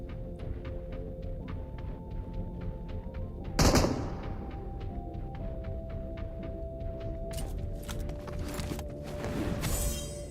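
Rapid gunfire in the BGMI battle royale game, a long run of evenly spaced shots from several shooters, with one loud close blast and a denser burst near the end over a low game hum.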